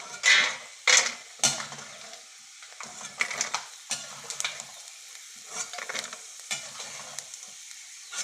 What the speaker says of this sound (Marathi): कोथिंबीर आणि लसूण तळून घेऊया